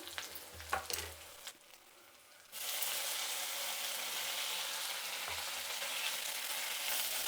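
Spices and vegetables fry in hot oil in a pan with a steady, close sizzle. A few stirring scrapes come first, then a brief lull before a loud, continuous hiss that holds to the end.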